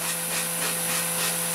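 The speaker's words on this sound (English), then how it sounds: "Then I like to take my sanding block" A sanding block rubs back and forth along an edge-banded wooden shelf edge in short, rhythmic scraping strokes, close and fairly quiet.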